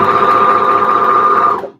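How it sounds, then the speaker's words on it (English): An overlocker stitches the bottom edge of a knit t-shirt in one steady, loud, high-speed whir that runs evenly for a moment, then winds down and stops. "Now I just need to overlock the bottom edge"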